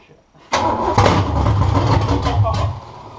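A Ford Falcon engine cranks and catches at about half a second, then runs loud and rough close by, with voices talking over the running engine.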